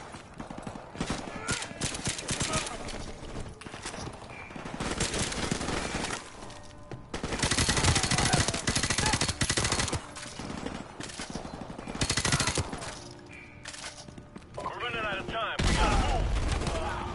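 Gunfire in the video game Call of Duty Remastered, dense bursts of loud shots and explosive crackle running almost continuously, with busy battle noise filling the whole stretch.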